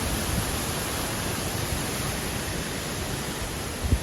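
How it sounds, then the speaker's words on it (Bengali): Cyclone wind during a storm in Khulna, bending and toppling trees, makes a steady, loud broadband roar that never lets up, with a brief gust or knock near the end. "বাতাসটা একদম ওলট পালট হয়ে আসতেছে"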